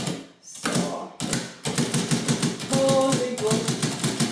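A manual typewriter being typed on, with quick runs of crisp key strikes and mechanical clacks broken by short pauses, close and clear with no talking.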